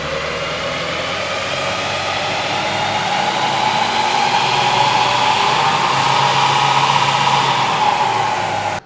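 A Mitsubishi Triton ute runs hard on a dyno in fourth gear, a loud steady engine and roller roar that holds constant and builds slightly before cutting off abruptly.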